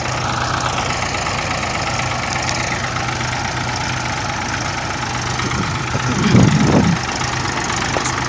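Mahindra and Massey tractor diesel engines, one with five gears and one with four, run in reverse gear with a loud, steady knocking chug close by that briefly swells louder near the end.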